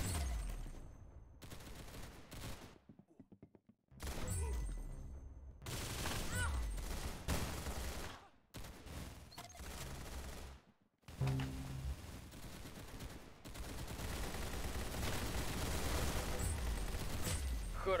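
Rapid video game gunfire in repeated loud bursts, some of them automatic, broken by short silent gaps and building to a sustained stretch of shooting near the end.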